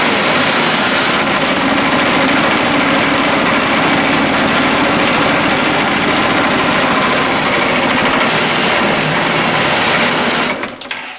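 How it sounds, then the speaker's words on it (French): A Piaggio Beverly 350 scooter engine, fitted with a new drive belt, runs loud and close with a constant buzzing whine for about ten seconds before cutting off near the end, with no voices. "donc je le démarre. Il va faire un bruit un peu bizarre."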